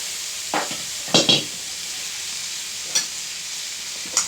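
Leafy greens, chandan bathua and mustard leaves, sizzling in a spiced tempering in a hot iron wok, a continuous close frying hiss broken by a few sharp spatula scrapes and clinks against the pan.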